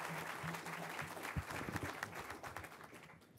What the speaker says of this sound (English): It's okay to give a round of applause to a chaplain